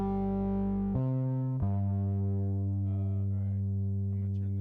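An isolated bass guitar through a saturation effect, sounding gritty and dirty, holds sustained low notes with a few pitch changes and note attacks, loud and alone.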